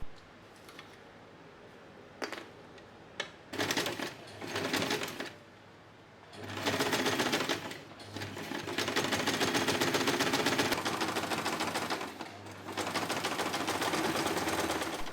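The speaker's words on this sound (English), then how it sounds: "Switch to a zipper foot to sew the zipper easier." A sewing machine stitches a zipper into a scrap-fabric pouch using a zipper foot, running in several rapid bursts of close mechanical chatter separated by brief pauses, with the longest continuous run near the end.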